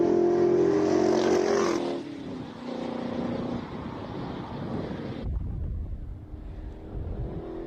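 Classic AC Cobra race cars run at a Cape Town hillclimb. A loud engine roar sweeps past at the start and fades into the distance, while wind buffets the microphone throughout.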